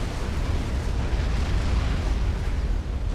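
An artillery shell explodes in the real-time strategy game Supreme Commander: Forged Alliance, a dense, steady roar of blast noise that holds loud throughout with no voices.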